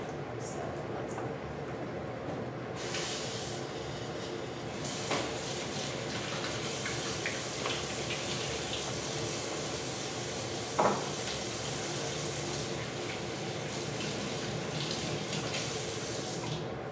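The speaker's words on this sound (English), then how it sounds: "So I'm just going to wash my hands." Hands are washed under a running household tap, a steady broadband rush of water with soft splashes and a brief knock near the middle, continuous throughout.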